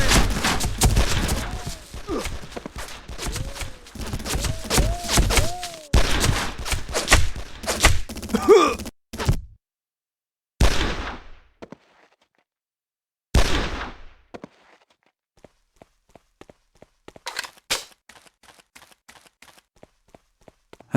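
Rapid volleys of gunfire crack out in the shooter game Made Man, with dense bursts and shouting early on, then sparse, isolated shots separated by near silence.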